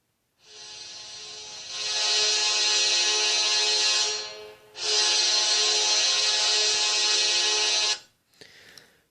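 NHL hockey goal horn, a loud, brassy sustained blast played in two long bursts separated by a short gap, followed by a faint trailing fragment.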